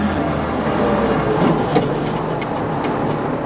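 Steady loud drivetrain roar and whine from inside a rear-wheel drive Mk1 Ford Fiesta with a Zetec engine while it is driven on the street, a continuous dense noise with no talk over it.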